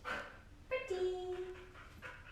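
A dog gives a drawn-out whining bark-like vocalization during obedience training for a Canine Good Citizen test, one sustained call in the middle of the clip, close and fairly loud, with no talking.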